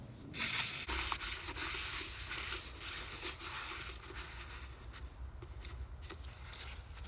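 A steady hissing spray, likely cleaner, is aimed at the bolts of a Bobcat T650 final drive during a rebuild. It opens with a brief louder burst and then continues as a close, rough wash for several seconds.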